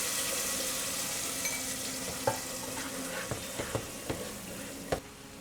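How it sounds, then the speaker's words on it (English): Onion paste fries in hot oil with garam masala, a steady sizzle under which a spoon stirs, with a few sharp scraping clicks near the end; no one speaks. "And then we will go in with the onion paste."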